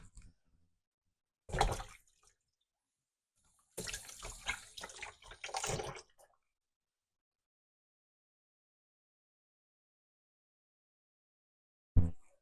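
Running tap water splashes over hands at a kitchen sink in two short bursts, one about a second long and one about two seconds, with silence between and a brief clunk at the end.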